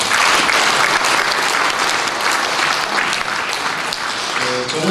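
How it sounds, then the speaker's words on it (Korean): An audience of several hundred at a forum's founding ceremony applauds in a dense, sustained wash of clapping that holds evenly throughout, crowd-wide and continuous. "뜻깊은 박수 한번 보내주시기 바랍니다."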